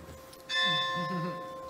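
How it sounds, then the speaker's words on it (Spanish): A church bell rings near a workplace, one loud struck tone with a long shimmering decay after a quieter lead-in, heard alone without speech. "cuando suenan las campanas, hacemos una parada y luego seguimos trabajando."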